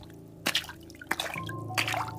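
Footsteps splash through a shallow puddle in three separate wet, squelching steps, close and distinct over a low steady hum.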